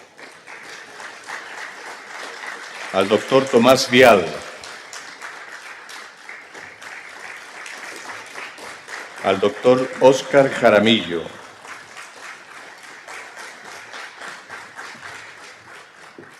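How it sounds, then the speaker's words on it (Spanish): An audience applauds twice in bursts to welcome speakers at a cyber law conference, each round of clapping lasting about two seconds, while a host's amplified voice announces names over a low room hum. "Le damos un aplauso de bienvenida."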